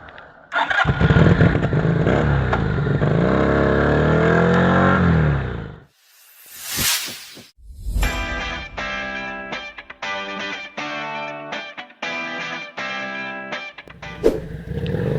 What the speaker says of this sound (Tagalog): alamin na natin ang acceleration nitong motor na ito and also yung kanyang shifting